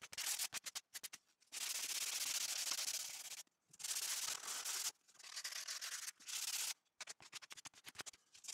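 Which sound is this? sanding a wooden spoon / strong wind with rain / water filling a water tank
sanding a wooden spoon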